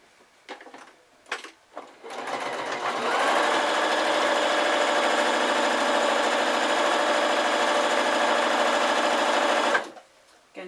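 A sewing machine stitches down the side seam of a drawstring Christmas sack, running steadily and loudly for about eight seconds after a few brief starts, then stopping.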